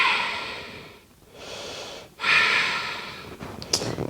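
Slow, audible breaths in and out during a yoga backbend with the chest opened, two long airy exhalations separated by brief pauses, close and fairly loud with no talking.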